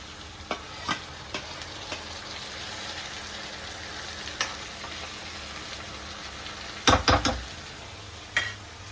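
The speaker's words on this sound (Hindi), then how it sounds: "अभी होंगे टमाटर फ्राई अच्छे से।" Tomatoes fry in a pan with a steady, even sizzle, broken by occasional spoon taps and a short cluster of louder scraping knocks near the end, heard close with no talking.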